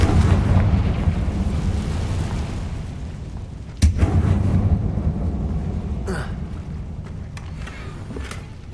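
A Confringo blasting spell detonates in a Harry Potter video game: a single sharp, loud boom cuts through a rumbling background, followed by a fading roar and a few softer thuds.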